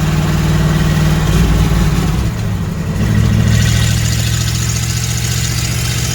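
A Camaro fitted with a T5 manual transmission downshifts, its engine holding a steady, loud drone before the revs change pitch partway through, then settling into a new sustained tone with no voices.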